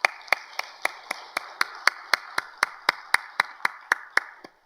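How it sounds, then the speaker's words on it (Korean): A church congregation claps in unison during a Friday late-night prayer service: a single crisp, regular beat of about eighteen sharp claps in a steady rhythm, with nothing else heard between them. "우리 하나님께 감사와 영광의 박수"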